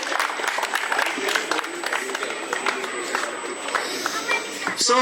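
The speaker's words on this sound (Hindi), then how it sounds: "नरसिंह सर, जोरदार तालियां हो जाए नरसिंह सर के लिए।" At an employees' award function, a crowd applauds and cheers loudly for an engineer being called up, dense clapping mixed with shouts and whoops, and a burst of louder sound just at the end.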